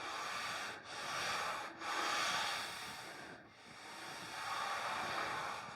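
A hand rubs across rough, raised wood grain on an old Art Deco chest of drawers, a dry, scratchy hiss in three or four long close strokes with short pauses between them.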